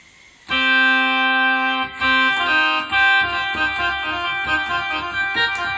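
Khaen preset on a KORG keyboard, a reedy free-reed mouth-organ timbre playing sustained chords and then a busier run of notes, loud and alone with no talk.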